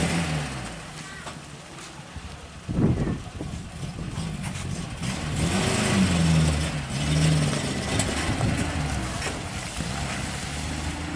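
A 1984 Suzuki Carry's small engine runs with a low, steady rumble that swells in the middle of the stretch, with people talking over it.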